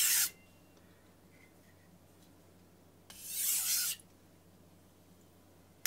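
A knife ground on a coarse Suisin whetstone, two brief scraping strokes, one at the very start and a longer one midway, rasping close and fairly quiet amid near silence.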